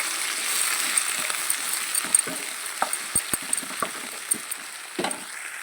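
A pan of brinjal, ivy gourd and tomato pieces being stirred, with a soft sizzle and scattered light clinks and scrapes of a spoon against the pan, close and fairly quiet.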